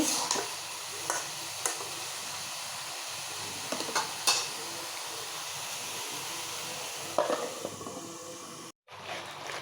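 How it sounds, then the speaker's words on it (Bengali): Cauliflower and potato bhaji fries in a pan with a steady hiss, and stirring brings periodic scraping knocks. Near, continuous, and briefly cut off near the end. "ফুলকপি আলু দিয়ে ফুলকপি দিয়া ভাজি রান্না করতেছি"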